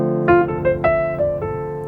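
Jazz piano plays a quick triplet figure, several crisp struck notes in an even three-against-the-beat rhythm, moderately quiet and clean with no voices.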